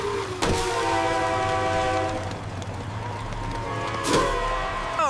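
In an animated scene, a train horn sounds in two loud blasts over the steady rumble and clatter of a rolling train.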